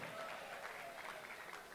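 An audience at a diocesan vocational song festival gives faint, distant applause, a soft continuous patter of clapping with crowd murmur.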